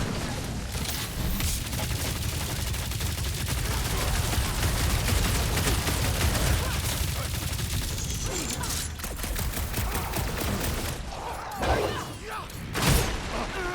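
Sustained gunfire from Rocket's weapon in the PS5 game Marvel's Guardians of the Galaxy rattles on in a continuous barrage under loud game noise and music, with a few heavier thumps toward the end.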